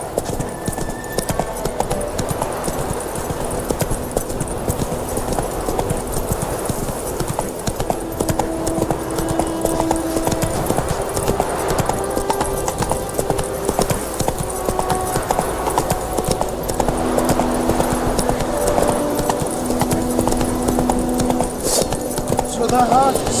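Roach the horse gallops in The Witcher 3, rapid rhythmic hoofbeats pounding steadily throughout, close and loud, with voices talking over the ride and a brief whinny.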